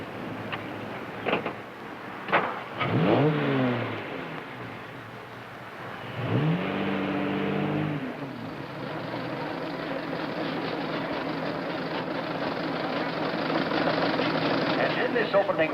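Vintage antique racing cars idle and rev at the starting line of an opening race, a steady engine drone swelling as motors rise in pitch, with brief voices heard over the rumble.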